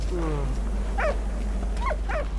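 Dog barks and yelps from the video game Valiant Hearts, three short calls spread over a couple of seconds after some lower tonal game sounds, over a steady low hum.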